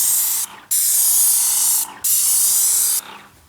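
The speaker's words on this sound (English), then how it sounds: "Nice, even spray pattern." A spray gun blasts in loud bursts of hiss, with short pauses between passes and a fading tail at the end.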